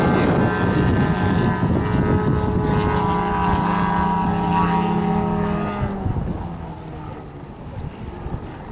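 A model aircraft engine at a French aeromodelling meeting buzzes steadily at high pitch during taxi and takeoff, then fades as the plane moves away into the distance.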